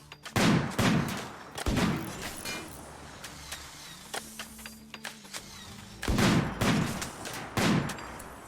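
Rapid bursts of assault rifle gunfire in a RimWorld colony battle, several clusters of sharp cracking shots spaced across the stretch, with quieter single pops and a low hum between volleys, no talk over it.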